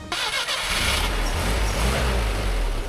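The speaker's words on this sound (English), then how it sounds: "the engine roared back into life" A motorcycle engine cranks and catches on a mountain road loop in northern Vietnam, then roars into a steady, loud rumble that keeps running close by.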